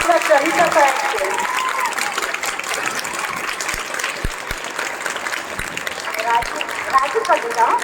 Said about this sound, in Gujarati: ફરી એકવાર તાળીઓનો ગડગડાટ થઈ ગયો